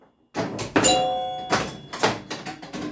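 A vintage pinball machine's electronic chimes and bell-like tones ring out over clunky mechanical thunks and rattles, several bursts in quick succession, close and fairly loud.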